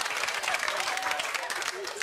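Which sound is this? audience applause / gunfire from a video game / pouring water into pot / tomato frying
audience applause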